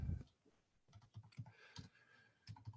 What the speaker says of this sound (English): here we're just typing in numbers